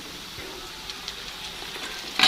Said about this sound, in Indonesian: ini langsung aja saya tumis bumbunya